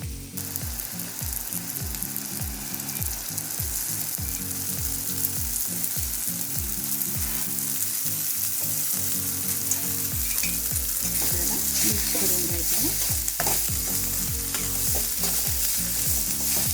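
Chighor vegetable sizzles in a hot kadhai with a constant hiss, while a utensil scrapes through it in repeated, rhythmic stirring strokes.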